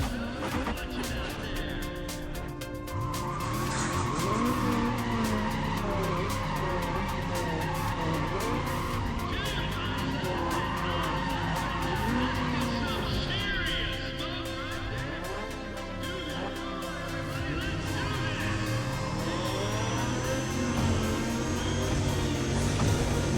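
Race car engine revving hard through gear changes with repeated tire squeal and skidding, a continuous loud in-game mix in Need for Speed ProStreet during a half-mile drag run with a new gearbox.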